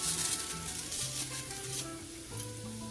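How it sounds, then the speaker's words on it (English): Arborio rice goes into a hot pan with aromatic garlic and starts to sizzle. A steady, close frying hiss continues throughout with light stirring and no talk. "you want to add your arborio rice"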